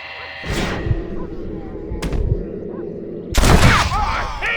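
Gunshots in the Western video game Red Dead Redemption, three heavy booming blasts spaced apart over a rumbling background, the last one loudest and echoing.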